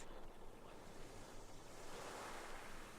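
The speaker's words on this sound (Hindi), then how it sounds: "बड़ी बड़ी वेव्स।" Big ocean waves roll in at the seashore by deep blue water, making a steady, broad wash of surf with no voices over it.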